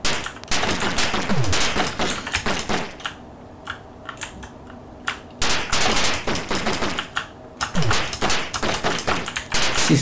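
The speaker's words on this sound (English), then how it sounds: "I wonder if you just have to shoot him." Gunfire effects from the Amstrad CPC game The Living Daylights: rapid, clattering bursts of shots in quick succession, a quieter lull in the middle, then another dense volley, loud and close.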